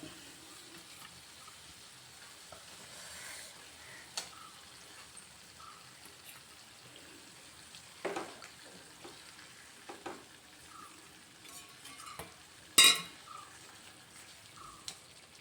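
Fish frying in a pan, giving a soft, steady sizzle throughout with a few sharper crackles and spatters, one louder pop near the end.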